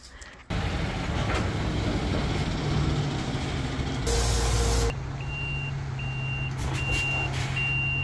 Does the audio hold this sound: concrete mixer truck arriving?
yes